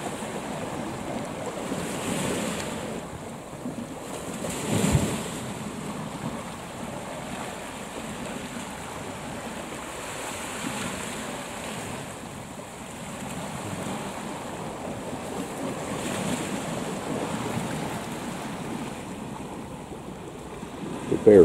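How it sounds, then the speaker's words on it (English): Sea swell rolling onto the shore, a continuous wash of surf with slow surges and wind buffeting the microphone, a louder wave breaking near the middle, no voices. "there's quite a swell on there."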